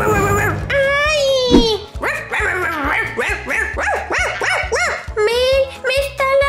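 Puppy in an Avatar video game barking repeatedly in high yips, whimpers and short howls, close and lively, mixed with excited speech.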